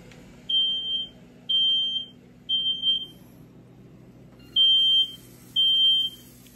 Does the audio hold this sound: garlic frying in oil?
no